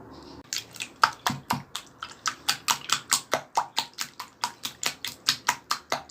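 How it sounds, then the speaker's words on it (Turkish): Egg mixture with flour, salt and pepper flakes whisked briskly in a bowl, a fast even run of about twenty sharp clinking strokes, close and clear with no voices. "Eklemiş olduğum malzemelerimi çırpıcı yardımıyla iyicene çırpıyorum."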